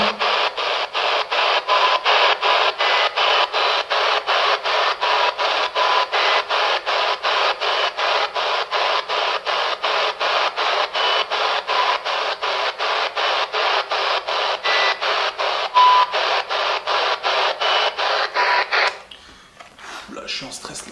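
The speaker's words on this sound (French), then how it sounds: "Le bruit blanc de la spirit me met en stress en fait." A spirit box radio sweeps through white-noise static during a paranormal investigation. Loud, harsh hiss chops in rapid, regular pulses for about nineteen seconds, then cuts off abruptly into quiet.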